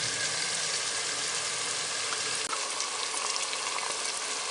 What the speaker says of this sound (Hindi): चिकन हमारा अच्छी तरह भून चुका है